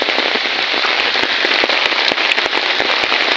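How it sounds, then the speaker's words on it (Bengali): Steady, dense rain patters down close by, a continuous hiss dotted with sharp crackling drops and no voices. "এখন বৃষ্টির চাপটা একটু কমছে"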